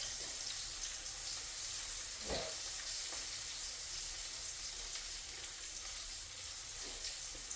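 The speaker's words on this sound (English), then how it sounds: "next is going to be the fish fry" Flour-coated catfish fries in hot oil, a steady soft sizzle throughout with a brief louder burst midway, quiet and close, no voices.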